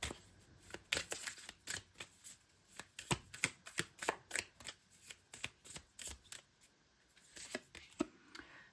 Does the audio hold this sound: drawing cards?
yes